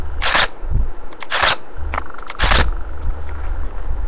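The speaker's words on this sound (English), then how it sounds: "A really fast shutter speed would be like this." A camera shutter fires at a fast speed of 1/300, giving three crisp, quick clicks spaced about a second apart, close and clear over a faint room hiss.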